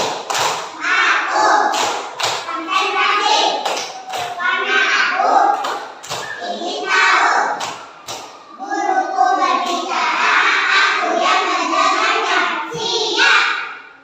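A class of children chants and claps through a rhythmic concentration clapping routine, sharp hand claps and thumps punctuating group voices in a classroom.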